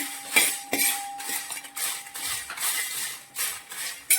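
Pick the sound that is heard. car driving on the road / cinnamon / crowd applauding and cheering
cinnamon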